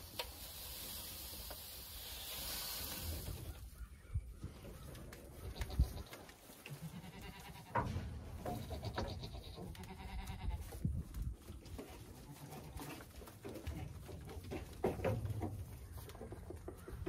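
Goats and sheep at a gravity-fed mineral feeder in a barn, with occasional faint bleats amid rustling, shuffling and light knocks, fairly quiet and without talk.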